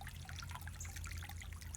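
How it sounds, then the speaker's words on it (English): A garden fountain on a farm runs steadily, its water trickling in a soft continuous wash with a low rumble underneath, moderately quiet and unbroken throughout. "And I've got the fountain running again."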